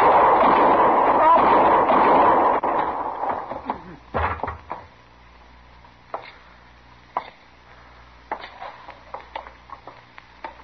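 Gunfire in a Gunsmoke Western radio drama: after a stretch of talk, a volley of sharp, loud shots rings out, followed by more scattered cracks and knocks spread over several seconds.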